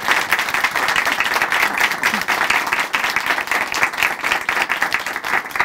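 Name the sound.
audience applause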